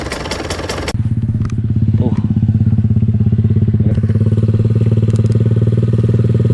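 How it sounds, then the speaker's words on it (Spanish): A Husqvarna TE 150i two-stroke motocross motorcycle runs steadily and loudly close by, its buzzing, rattly engine note holding a constant throttle with slight pitch shifts and a brief rev swell, with no voices. "voy a dar una vuelta en la Husqvarna TE 150 dos tiempos"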